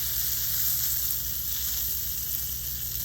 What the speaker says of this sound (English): And then we're going to sear the edges.